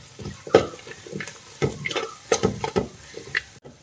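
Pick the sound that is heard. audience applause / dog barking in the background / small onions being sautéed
small onions being sautéed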